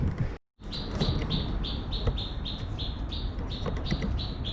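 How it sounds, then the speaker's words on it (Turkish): A bird sings a fast, regular series of repeated high notes over a loud, rumbling outdoor background, after a brief cut near the start. "Kralın kuşu da öttü."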